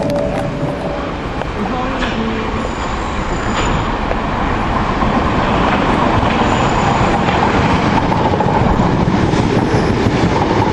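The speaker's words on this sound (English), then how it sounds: "You can see the trains running back and forth." Trains rumble past Denmark Hill with a steady, building roar and rattling wheels, loud and close throughout, with a brief voice early on.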